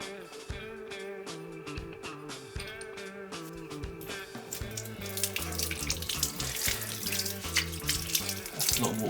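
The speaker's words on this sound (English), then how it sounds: "That's a lot of water sitting in the taps." Water runs out of household taps during a DIY plumbing repair after a new full bore lever valve is fitted. A steady, close splashing flow starts gentle and grows louder and more turbulent, with no talking.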